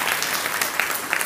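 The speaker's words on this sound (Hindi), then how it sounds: "वाह ताली बजाने कितने लोग।" An audience at a Hindi-language spiritual talk clapping together: a brief, dense burst of many hands applauding, moderately close and uneven in rhythm, with no speech over it.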